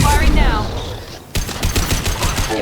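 Rapid bursts of automatic gunfire in Mass Effect 2 during the Collector attack on Horizon, loud and close, a first burst, a brief lull, then another sustained volley, with voices mixed into the combat.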